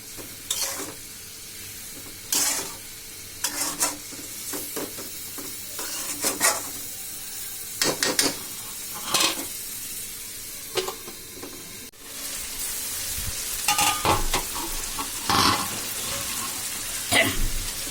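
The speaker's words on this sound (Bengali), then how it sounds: "আমার মাংস আর আলু কষানো হয়ে গেছে" Duck meat and potatoes stir-fried in a pan, a steady sizzle punctuated by repeated scraping stirs every second or two, louder and denser in the last few seconds, heard up close without speech.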